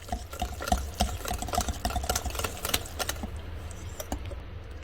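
Pumpkin and eggs are stirred together in a bowl, giving soft repeated clicks and wet tapping in an irregular quick rhythm, fairly faint and close, with no talking.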